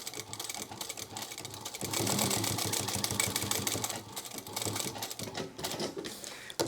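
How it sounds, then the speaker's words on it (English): A sewing machine runs in bursts, top stitching webbing on a sling crossbody bag, a fast rattling needle clatter that starts, pauses briefly and resumes, fairly quiet and close with no talking. "So 1/8 inch away from the edge, I'm going to top stitch."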